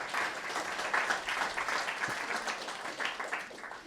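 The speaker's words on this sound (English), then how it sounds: "if you could give them a round of applause" An audience at a hardware meetup in Stockholm gives a dense, steady round of applause for the sponsors. The clapping is moderately loud and has no talk over it.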